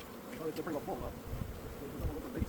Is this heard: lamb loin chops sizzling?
no